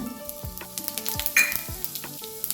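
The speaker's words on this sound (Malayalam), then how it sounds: "കുറച്ച് പെരുംജീരകവും പൊട്ടിക്കണം" Cumin and fennel seeds splutter in hot refined oil for a curry, giving a bright sizzle with quick little pops and crackles, heard close and fairly loud with some tonal background sound.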